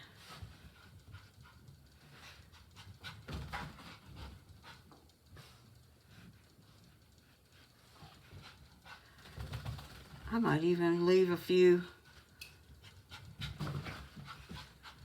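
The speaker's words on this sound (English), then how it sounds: "My dog is running all over the place because she just had a bath." A freshly bathed dog pants and scurries around nearby, with quick rhythmic breaths under a person's speech and a brief louder vocal burst midway.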